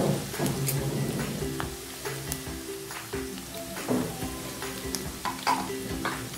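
Onion hitting hot oil in a pan for a keema and potato curry, a crackling sizzle with a steady frying hiss and occasional stirring scrapes, close and fairly loud.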